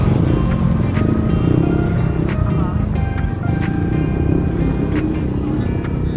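A Yamaha scooter engine hums on a race track at night, a steady close engine drone mixed with broadband road and wind noise, with faint voices in the background.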